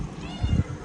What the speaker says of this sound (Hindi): बिल्ली आई है, म्याऊं म्याऊं कर रही है।